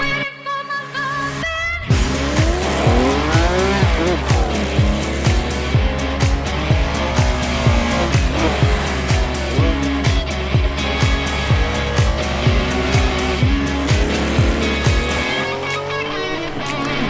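Loud onboard engine of a lightweight rear-drive Porsche 911 964 Carrera RS with a 3.6-litre, 260-horsepower flat-six, racing in Assetto Corsa. The revs rise and fall repeatedly through gear shifts, with occasional tyre squeal.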